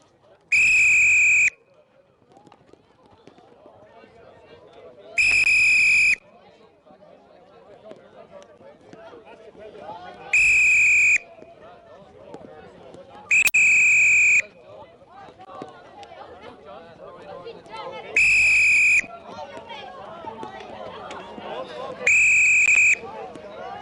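A coach's sharp, high whistle blasts six times at a hurling workshop, each about a second long and spaced several seconds apart, over a background of children running, calling and chattering.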